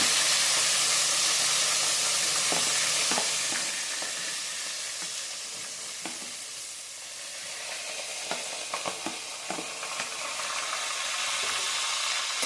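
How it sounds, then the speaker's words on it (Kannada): Chopped onions and green chillies frying in a pan over medium heat, a steady broadband sizzle running throughout with intermittent scraping stir clicks, close and fairly loud, no voices. "ಚೆನ್ನಾಗಿ ಫ್ರೈ ಮಾಡ್ಕೊಬೇಕು ಮೀಡಿಯಮ್ ಉರಿಯಲ್ಲಿ ಇಟ್ಕೊಳ್ಳಿ"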